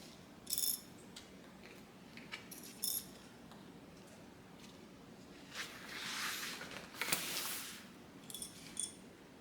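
A sewing machine stitches a fabric band onto the front assembly of an AllyBee bag, giving quiet scattered clicks and ticks and a brief, soft mechanical whir of running stitches near the end.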